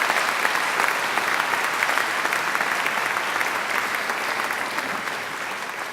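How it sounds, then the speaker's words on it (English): A large graduation ceremony audience gives a singer a steady, dense round of applause that sustains evenly for several seconds with no voices over it. "I think she deserves another great round of applause."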